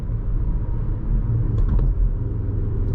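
A 2018 Audi SQ5 SUV accelerates from the driver's seat, a steady low engine rumble with road noise building smoothly, heard from inside the cabin with no talking.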